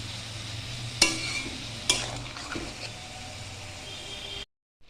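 Soybean patori is stirred in a pan with a continuous soft sizzle, two sharp spoon scrapes, and a few lighter scrapes, before the sound abruptly cuts to silence near the end.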